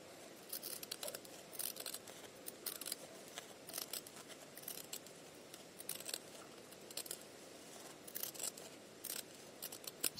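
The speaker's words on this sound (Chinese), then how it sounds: "一样可以用锯齿剪来剪哈" Pinking shears trim layered cotton fabric for a child's bib, making a quiet, close series of crisp snips in irregular bursts against a soft room hush.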